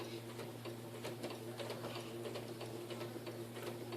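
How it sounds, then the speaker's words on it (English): Home sewing machine stitching fabric, a continuous rapid rhythmic ticking and whirring heard close and steady throughout. "So as you can see, I'm sewing."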